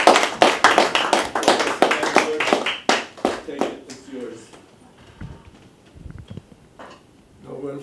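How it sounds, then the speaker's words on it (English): A small audience at a conference session claps in distinct, close individual hand claps that thin out after about four seconds, with a voice speaking afterward. "let's give him a nice applause"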